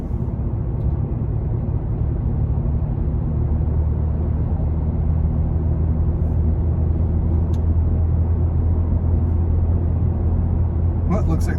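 A 2008 BMW 328i drives on a foggy morning, with fueling off from a leaking seal that makes it jerk at low RPM. A steady, loud low engine and road rumble drones on without a break.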